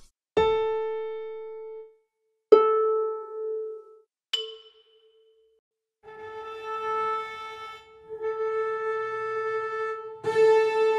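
The note A4 played in turn on piano, harp, viola, cello, several cellos, French horn and flute, each a clear pitched tone at the same pitch, the early ones decaying plucked or struck notes and the later ones sustained bowed and blown tones.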